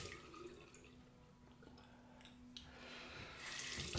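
Water from a tap runs and drips while an alum block is wetted during a shave, faint trickling that swells into a louder splash near the end.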